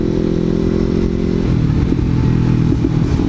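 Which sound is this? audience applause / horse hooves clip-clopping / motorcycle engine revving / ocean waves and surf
motorcycle engine revving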